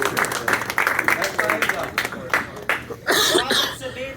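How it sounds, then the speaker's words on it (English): A crowd at a referee awards presentation gives scattered, uneven applause for an assistant referee, sharp claps mixing with continuous talk and a brief louder burst near the end. "And I want to give him an applause."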